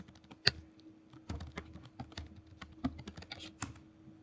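A file name is typed on a computer keyboard: quiet, close key clicks tapping in an irregular run, a few louder strokes standing out, with no talk.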